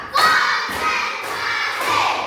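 A group of children claps in a counted chant, sounding four sharp, loud clap bursts at a steady beat, close and crowded, with faint young voices mixed underneath.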